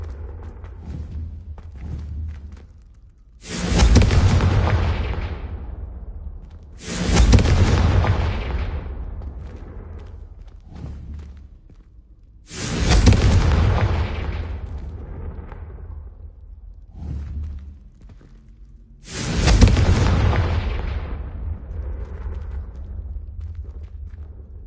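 Confringo blasting spell in Hogwarts Legacy: four big booming explosions spaced several seconds apart, each a loud burst that rumbles and fades into a low tail.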